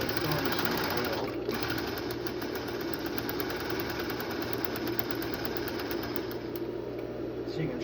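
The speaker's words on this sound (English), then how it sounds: "We're going to turn the sewing machine on." An electric sewing machine stitches through paper with a steady, fast mechanical chatter that runs close and continuous throughout, a faint voice murmuring beneath it.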